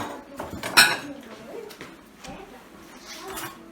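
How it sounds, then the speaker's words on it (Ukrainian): Glass bowls clink and clatter close by, with one sharp bright knock near the start and softer handling noises after, while preparing a meat salad. "Тепер я беру отакі дві стекляні посудини."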